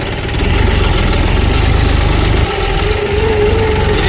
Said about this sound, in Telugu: ఇది ఒక ట్రాక్టరు.